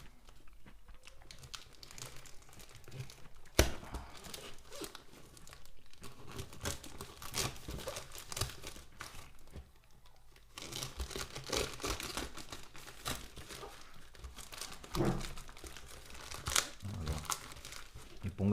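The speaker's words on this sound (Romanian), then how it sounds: "E pungă peste pungă peste pungă." Several layers of plastic bags being unwrapped from a parcel, close and loud crinkling and crumpling in irregular bursts, with tearing rustles and short pauses.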